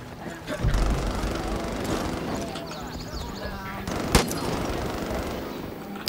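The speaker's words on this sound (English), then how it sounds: "who the hell is firing right now?" Gunfire crackles through a Far Cry 5 match, several bursts and one sharp louder shot under steady chatter from a player talking throughout, with music and ambient game noise mixed in.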